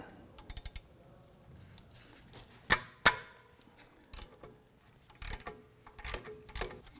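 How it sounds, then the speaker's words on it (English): Ratchet fitted with a 13mm socket loosening a rear brake caliper bolt on a 2003-2014 Volvo XC90, heard as quiet scattered clicks and two sharp louder snaps near the middle, with more brief clicks toward the end. "I'm going to reach it from up top with my ratchet"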